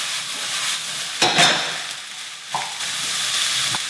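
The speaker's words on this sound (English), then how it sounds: "Now we'll seal those make sure all the vegetables get a nice coating" Vegetables sizzle steadily in hot oil in a pan as they are stirred and coated, with louder bursts of scraping and spattering breaking through the constant frying hiss. No one speaks.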